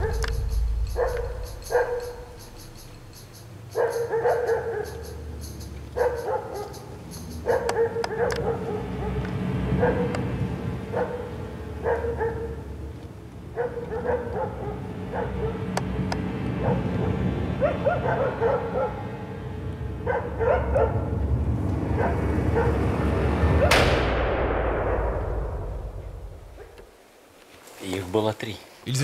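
A pack of stray dogs that have reverted to hunting instinct, barking and yipping in repeated bursts, some whimpering, under a steady narrating voice with continuous background noise.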